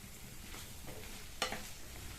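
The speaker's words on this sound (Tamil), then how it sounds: "இப்போ இந்த பீன்ஸை நல்லா மசாலாவோட சேர்த்து 2 நிமிஷத்துக்கு இந்த மாதிரி வதக்கி கொடுத்துக்கலாம்" Green beans sautéing with masala in a pan for a Tamil side dish, a soft continuous sizzle broken by brief stirring scrapes, one sharper clatter near the end, close and fairly quiet.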